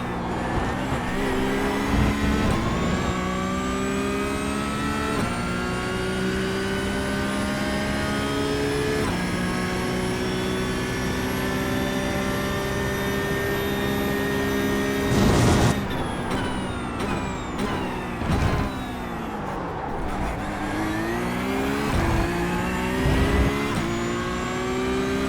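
A Porsche 911 Cup 992.1 race car engine in the iRacing sim at the Red Bull Ring screams through a fast lap, rising in pitch through the gears with sharp downshift blips and braking drops, loud and continuous without talk.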